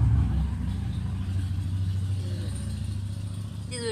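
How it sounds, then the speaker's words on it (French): A large motorcycle goes by on the road, a low engine rumble that is loudest at the start and then fades as it moves off. "une grosse moto qui vient de passer."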